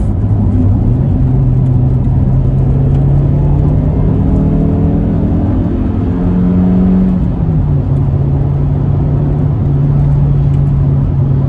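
Engine of a 2000s rally car revving steadily in third gear through a corner, a loud sustained drone that rises and dips in pitch as the throttle changes, heard up close from inside.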